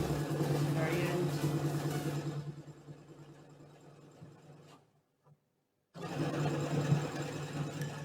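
A Brother sewing machine runs a lock stitch with a steady, close, whirring mechanical hum that quiets partway through, stops briefly, then starts up again at full speed.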